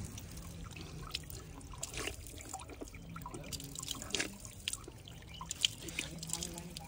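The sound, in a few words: water running from a tap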